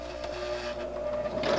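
A sewing machine stitches back over its first stitches on a fabric jar lid gripper. The motor hums steadily and close, and the whir grows a little louder toward the end.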